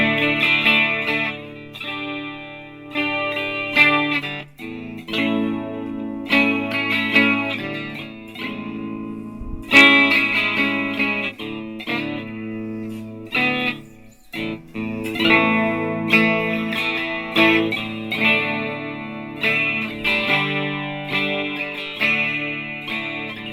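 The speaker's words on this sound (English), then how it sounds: "let me give you a couple more little tones on this thing and play, like do a little chorus effect on it" Electric guitar built from a Leo Jaymz Tele kit, played through a chorus effect: chorded and melodic phrases ring out steadily and clearly for the whole stretch, with a shimmering, modulated tone and no talking.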